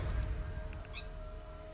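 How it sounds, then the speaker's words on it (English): A pet cat gives a single brief, faint meow over a low steady background hum. "that was my cat bringing a toy in and wanting to meow at me"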